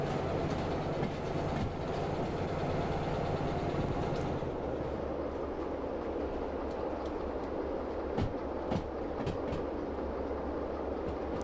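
Steel freight train in the Derail Valley game rolling steadily along rails, a continuous loud rumble with a few sharp clicks and clacks near the end, no talk.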